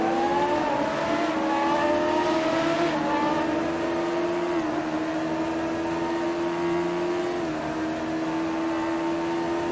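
A Radical SR3 race car engine at Imola screams at high revs from inside the cockpit, rising through the gears with short dips at each shift, loud and continuous throughout.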